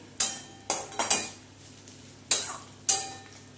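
A metal spatula clatters against a pan while fried pointed gourd and onions are stirred, five sharp separate scraping knocks with quiet gaps between, no talk.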